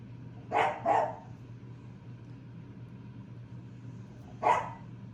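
Two quick dog barks, then a single bark a few seconds later, close by, with a quiet steady background hum between them.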